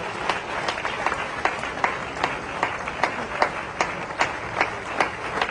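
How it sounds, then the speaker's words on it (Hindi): Loud applause at a political book-release event with dignitaries, many people clapping in rhythmic unison, with sharp regular beats rising above a dense crowd roar and no talk. "दोनों हाथ ऊपर उठा करके जोरदार तालियों के साथ इस विमोचन की हम सभी लोग अनुमोदना करेंगे।"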